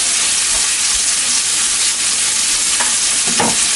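Bacon frying in a pan, a loud, dense, continuous sizzle and crackle close up, with a few faint clicks near the end.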